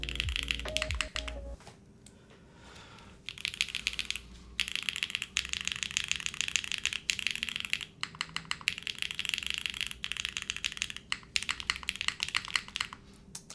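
Typing on a custom mechanical keyboard fitted with bean gaskets and weights, with steady close-up clacky keystrokes in continuous bursts and brief pauses between runs, with no talking.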